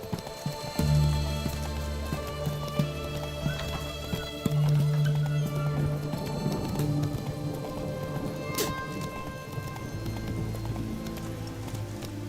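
Geralt's horse Roach galloping in The Witcher 3, with steady rhythmic hoofbeats pounding close and loud for the whole stretch over a sustained musical background.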